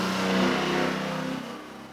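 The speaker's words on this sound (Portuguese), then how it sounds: "Passou uma moto aí, vocês devem ter ouvido bem grande o barulho" A motorcycle passing by outside, its engine droning loudly and then fading as it moves away, heard through the walls of a classroom.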